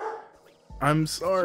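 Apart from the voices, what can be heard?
dogs barking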